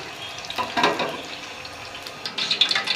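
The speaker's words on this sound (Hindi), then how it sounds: "घी के अंदर ये सब्ज़ इलायचियाँ जाएंगी, इनको मैं कड़कड़ा लूँगी।" Green cardamom pods sizzle and crackle in a large pot of hot ghee, a soft, close frying hiss with brief bursts of spattering.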